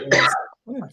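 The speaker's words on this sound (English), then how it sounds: "Now you guys get to hear me cough all the time because I can't mute myself." A single person coughs harshly during a livestreamed astrology panel discussion, a loud rough burst followed after a short pause by a second, softer cough-like sound.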